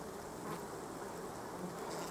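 Honey bees buzz steadily and softly around a newly released queen inside a nucleus hive, a continuous close-up hum with no pauses.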